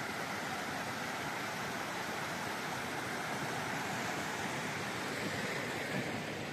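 A river flowing beside a mountain campsite near forest and a green meadow makes a steady, even rushing wash that continues unbroken throughout, with no voices.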